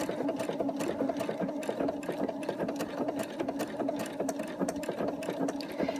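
A sewing machine stitches fabric for a grandchild's Halloween costume, running steadily and fairly close with a fast, even clatter of needle strokes throughout, no voice over it.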